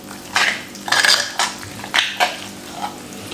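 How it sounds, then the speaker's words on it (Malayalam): Curd for a Kerala beetroot pachadi being mixed in a bowl with a whisk or fork, giving a few close, uneven clinks and scrapes of metal against the dish, with no one speaking. "ജസ്റ്റ് ഒരു വിസ്ക് കൊണ്ടോ അല്ലെങ്കിൽ ഒരു ഫോർക്ക് കൊണ്ടോ ജസ്റ്റ് ഒന്ന് മിക്സ് ചെയ്തെടുത്താൽ മാത്രം മതി."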